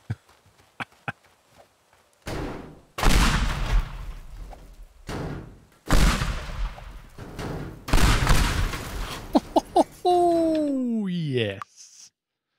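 Pipe bombs detonating in the voxel destruction game Teardown: a series of loud, broadband blasts with crumbling debris tails, preceded by small clicks, ending in a falling whistling tone.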